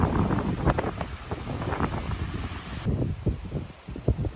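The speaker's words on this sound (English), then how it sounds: "it is quite breezy out here." Breezy outdoor wind buffets the microphone in low rumbling gusts, with rustling and thumping bursts of uneven strength. There is no speech.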